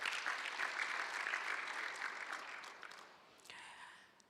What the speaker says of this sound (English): I would request you again to clap for the government of Rwanda and the government of Japan